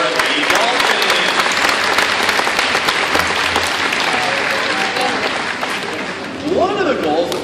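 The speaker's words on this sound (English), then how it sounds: "let's have a round of applause for the dolphins" A crowd at an aquarium dolphin show in an aquatic exhibit applauds loudly and steadily, with cheering and voices mixed into the clapping throughout.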